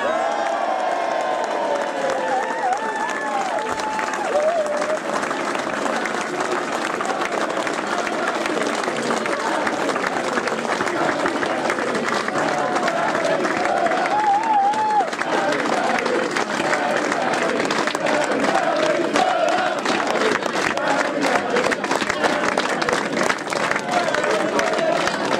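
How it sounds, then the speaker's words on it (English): An awards-night crowd applauds and cheers AFC Wimbledon's Barry Fuller as Players' Player of the Year, with sustained dense clapping, whoops and crowd noise filling the room throughout, along with some voices. "Round of applause for Barry Fuller, ladies and gentlemen."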